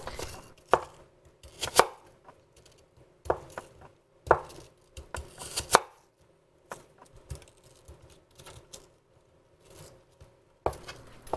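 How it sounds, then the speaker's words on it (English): A kitchen knife slices apple pieces on a cutting board for fritters, giving close, crisp taps and thuds spaced irregularly, some in quick pairs, with quiet pauses between and no talking. "Cut each piece into 3 to 4 slices."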